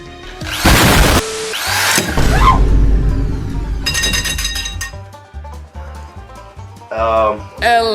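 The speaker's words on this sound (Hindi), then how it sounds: "जब मैं बोलूँ मम्मी तब इस ड्रिल को ऑन कर देना" An electric drill is switched on indoors near a wall, giving loud bursts of whirring with clinks and clattering, while voices talk around it.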